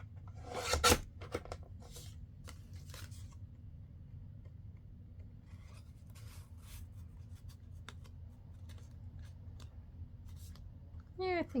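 Scissors snip through paper being trimmed for a stacked craft tag, with one crisp cut near the start followed by faint scattered rustles and small clicks over a low steady hum.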